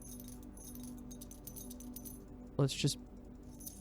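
Keys jangle as they are picked up in the video game Blue Prince, two quick metallic rattles over a soft game music bed. Someone says a few words just before.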